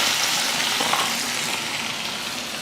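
Mustard seeds, fenugreek, shallots and curry leaves tempering in hot oil give a steady, close hissing sizzle, even and continuous with no talk.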